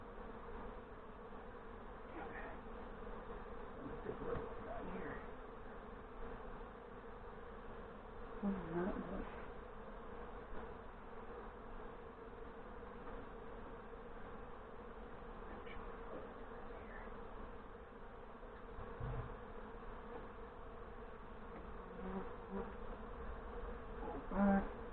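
Honey bees buzzing around a newly installed nuc hive in northern Michigan, a steady layered drone close by with a few louder passes of individual bees, no talking.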